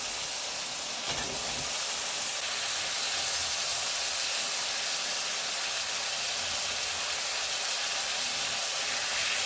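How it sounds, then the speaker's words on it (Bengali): Ginger water hits new potatoes cooking for aloo dum, producing a constant, loud sizzling hiss of steam that stays steady and unbroken throughout. "আদা জলটা দিয়ে দিচ্ছি।"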